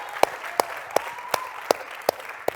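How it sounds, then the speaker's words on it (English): Audience applause for Starbucks Workers United comes as about seven evenly spaced, sharp claps in a slow rhythm, fairly close and clear over a quiet room. "let's give a hand to Starbucks United"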